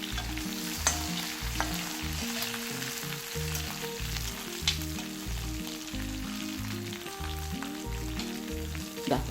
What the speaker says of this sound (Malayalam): ഇതുപോലെ നമുക്ക് എല്ലാ ചെമ്മീനും ഒന്ന് വറുത്തെടുക്കാം